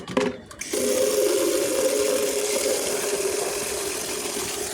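Water poured onto potted plants, a steady, continuous splashing pour that begins after a brief scuffle and runs evenly for about four seconds.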